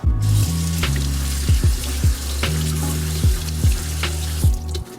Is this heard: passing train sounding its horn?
no